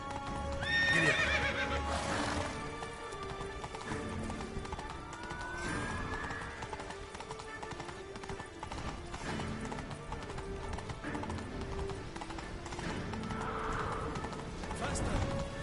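A horse galloping in The Witcher 3 video game, with rapid rhythmic hoofbeats throughout and a whinny near the start, while a person talks over the game sound.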